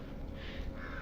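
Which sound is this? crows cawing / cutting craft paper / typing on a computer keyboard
crows cawing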